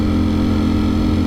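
Ducati Streetfighter V4S motorcycle exhaust rumbling steadily at close range, a dense low, throbbing idle tone that holds even and loud throughout, with no voices.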